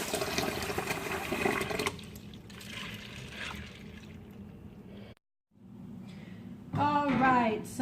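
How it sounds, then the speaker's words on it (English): Tap water runs steadily into a pot of pinto beans, a close rushing pour that stops briefly and resumes, with a voice heard over it near the end. "So let me fill this up with water."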